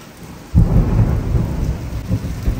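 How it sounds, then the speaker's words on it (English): A thunderstorm with rain: a deep rumble of thunder swells in after a quiet half second, then rolls on steadily over the patter of rain. "wouldn't you know it, we have another thunderstorm"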